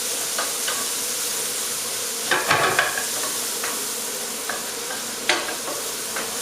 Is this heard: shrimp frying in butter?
yes